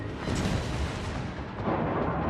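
Warship secondary guns fire in World of Warships, a dense continuous rumble of overlapping booms and blasts with no gaps, loud and steady throughout.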